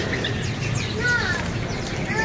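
A sooty-headed bulbul (kutilang Jawa) at a bird market kiosk gives short whistled chirps and rising notes over busy background chatter and other birds.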